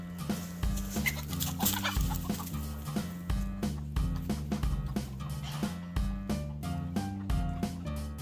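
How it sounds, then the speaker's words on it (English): Chickens cluck close by in a rapid, overlapping chorus of short, choppy calls that pulse rhythmically and continuously, with no talking. "he wanted to chase chickens."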